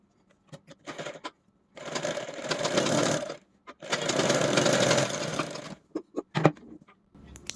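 A sewing machine stitches a blouse sleeve in two sustained bursts of rapid whirring, separated and framed by short clicks and handling knocks of the fabric and machine, close and fairly loud, without speech.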